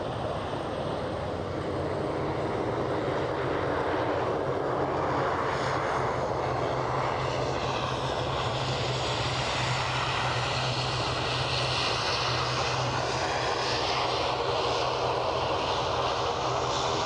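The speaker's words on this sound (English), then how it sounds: "So the ATR you are looking at just" An ATR turboprop airliner at Aberdeen airport sends out a loud, steady engine drone with a whining propeller tone, sustained throughout without break.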